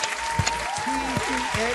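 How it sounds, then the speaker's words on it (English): Audience applause at a stand-up comedians' game show, a steady wash of clapping with a voice speaking over it and brief whoops rising through the crowd noise. "let's give her a big round of applause"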